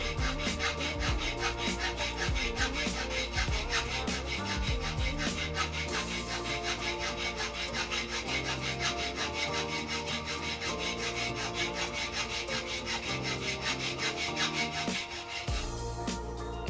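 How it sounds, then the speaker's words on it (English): A rectangular file squares the end of a threaded rod held by a nut in a vise, giving a continuous rhythmic metallic rasping of steady strokes, close and fairly loud with no talking. "let's use a rectangular file to square the end of a threaded rod"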